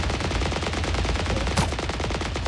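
Rapid, continuous automatic gunfire in the video game Sausage Man rattles loudly throughout, dense bursts blending into a steady roar with a sharper shot near the end.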